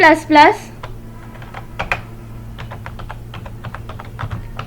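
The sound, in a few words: typing a compile command on a computer keyboard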